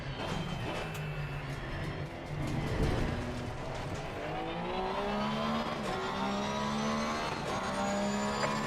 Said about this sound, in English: Faster cars approaching.